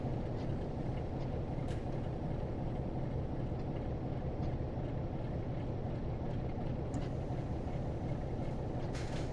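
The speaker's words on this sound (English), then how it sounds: "just coast at whatever speed the train decides to go at, all the way down the hill" A train coasting downhill on the Semmeringbahn in a train simulator game, a constant dense rumble of wheels and running gear with faint occasional squeals or clicks, steady throughout with no talking.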